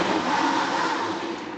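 A blender running steadily while making a strawberry banana smoothie, a loud, continuous whirring roar from start to end.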